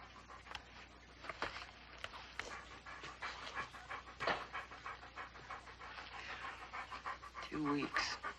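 A dog pants in quick, rhythmic bursts close by, with a short whimper near the end, while people talk over and between the breaths.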